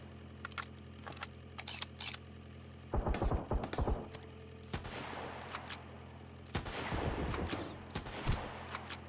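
AK rifle fire in the video game Sunkenland, quiet rapid bursts of shots in two short volleys over faint background ticks and clicks, with no talking.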